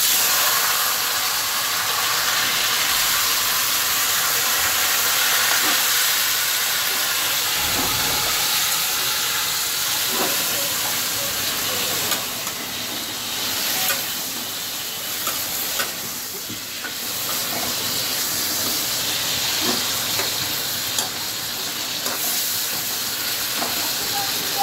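Marinated chicken sizzling and hissing steadily in a pan of browned garlic, a loud continuous fry with faint stirring clatter throughout.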